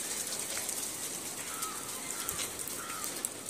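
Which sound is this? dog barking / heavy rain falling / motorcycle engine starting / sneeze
heavy rain falling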